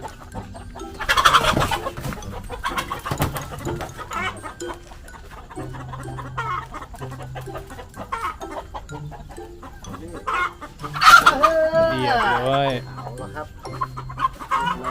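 Thai native village chickens and fighting chickens clucking and crowing near a roost at dusk, with scattered calls through the clip and a louder burst of agitated clucking near the end, while someone talks intermittently.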